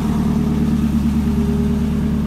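Turbocharged Honda B16 engine running on a dyno, a loud, steady low droning roar held at constant speed for a couple of seconds, close and alone.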